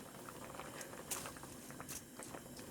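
Mussel broth bubbling at a boil in a pot for noodle soup, a faint, steady patter of small pops and bubbles throughout.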